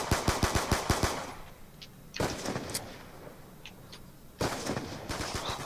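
Enemy gunfire in a video game arrives as rapid bursts of automatic shots, a quick rattling volley, a pause with scattered single cracks, then another sustained burst, loud and close.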